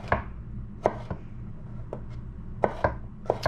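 Knife chopping through Roma tomatoes on a cutting board, with about eight sharp, irregular chops spread over a few seconds against a low background hum; no one talks.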